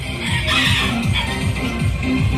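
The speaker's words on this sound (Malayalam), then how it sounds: "ഇതിൻ്റെ പുറകിലൊക്കെ കോഴികളും ഉണ്ട്" A flock of chickens at a pet show clucking steadily in repeated low pulses, fairly close, over a constant noisy outdoor background.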